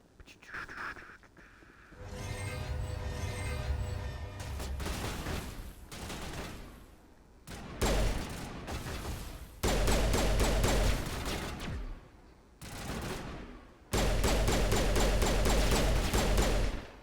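Gunfire in the Mass Effect game while shooting an alien: loud sustained bursts of automatic fire in several long blocks separated by brief pauses, dense and close.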